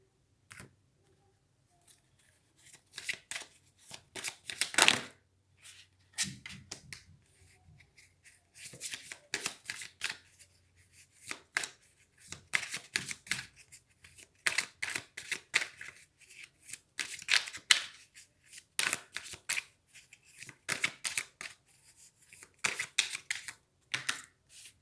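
Tarot cards are shuffled close up in repeated bursts of crisp riffling and flicking, separated by short pauses, with no talking.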